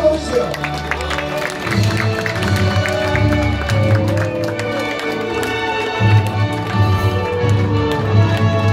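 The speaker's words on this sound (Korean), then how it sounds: "박수 한 번씩" An audience claps steadily during entrance proceedings at a Korean national ornamental-stone exhibition event, a continuous wash of applause mixed with music and a host's voice.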